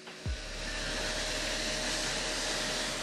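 A powerful vacuum cleaner whines up at the start and then runs steadily and loudly, cleaning the disassembled parts and fragile fan of a PS4 Slim console, with no talking over it.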